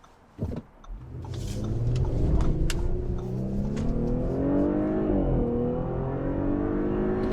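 An Audi SQ5 Sportback launches from a standstill, its engine rising loudly and steadily as the car accelerates hard, heard from inside the cabin after a brief click.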